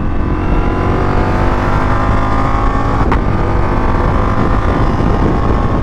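A Ducati Multistrada motorcycle at high speed gives a loud, continuous engine drone under heavy wind roar, with one short sharp click about halfway through.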